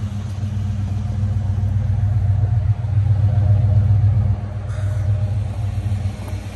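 A 1986 Monte Carlo SS engine running, a steady deep idle rumble heard close and alone, with a slight dip in the middle.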